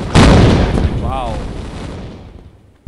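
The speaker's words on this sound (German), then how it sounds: "Explosion." A loud explosion in Tomb Raider: a sharp booming blast that rolls into a long decaying rumble with a brief warbling tone in the tail, then cuts off abruptly.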